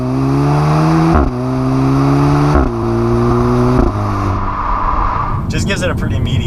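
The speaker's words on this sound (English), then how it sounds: "every shift, right in between the shifts, you hear a little pop within the exhaust." A 2016 Audi S3 Prestige with a 2-liter four-cylinder engine accelerating hard through several gear changes, revs climbing then dropping at each shift, with small exhaust pops between shifts and a voice talking over it.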